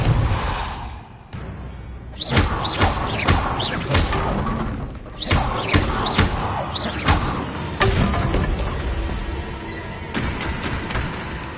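In Hogwarts Legacy, the Depulso spell fires in a series of loud, percussive bursts and thuds that come in clusters, mixed with clattering game effects and soft grunts.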